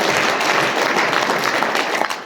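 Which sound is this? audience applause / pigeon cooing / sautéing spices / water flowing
audience applause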